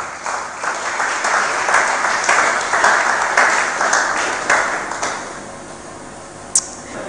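Audience clapping during a church sermon on fasting, a steady, moderately loud wash of applause that slowly thins out, with a brief sharp knock near the end.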